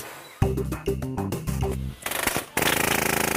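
Factory machinery, a robot fitting corner brackets onto bed frames, gives a run of sharp mechanical clacks and thumps, then a harsh rattling burst and a loud continuous grinding at close range.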